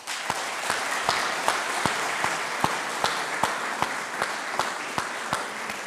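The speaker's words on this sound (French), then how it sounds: "l'équipe d'Ardennes Métropole, je pense qu'elle mérite également vos applaudissements" Steady audience applause at a business awards ceremony honouring the Ardennes Métropole team, with sparse individual claps cutting through a dense, even wash of clapping.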